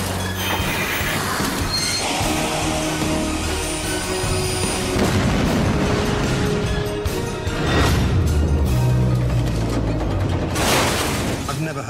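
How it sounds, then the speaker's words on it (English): A dense, loud rumble of rush-hour commuter trains near Paddington, London, in the 1999 Ladbroke Grove rail crash, with heavy booming impacts and a surging burst of crashing noise toward the end over a continuous low roar. "I've never heard anything like it, just a huge bang."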